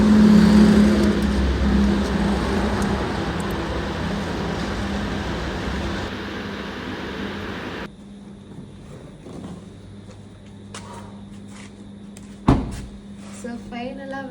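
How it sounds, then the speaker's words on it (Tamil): A car drives at night with a steady engine and road hum from inside the cabin. It turns quieter partway through, with a sharp knock or door-like thud near the end and someone speaking over it. "ஸோ வண்டி எடுத்து ஸ்டார்ட் பண்ணிவிட்டு கிளம்பிட்டேன்."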